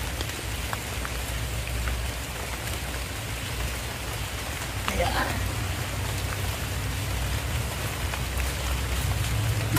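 Steady rain falling outdoors near a fish pond, a dense continuous hiss with scattered drop impacts, close and even throughout, with a brief voice partway in.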